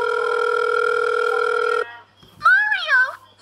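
A telephone tone from a Super Mario meme plays as one steady, loud electronic ring for about two seconds, then cuts off before a short, high cartoonish voice is heard.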